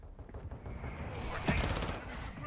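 Shotgun fire in an online multiplayer shooter: a single sharp, booming blast midway through a noisy stretch of battle ambience, with voices talking underneath.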